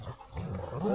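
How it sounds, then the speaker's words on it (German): Dog giving a low, continuous growl, close and steady, rising slightly at the end, with no talk over it. "Du bist ein böser Hund"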